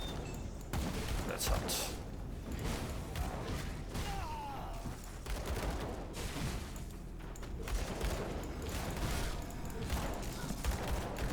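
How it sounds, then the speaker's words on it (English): Rapid bursts of gunfire from cowboy enemies in the action RPG Grim Dawn (beta 27) crackle in dense volleys throughout, with someone talking over the shooting. "Cowboys, stop shooting."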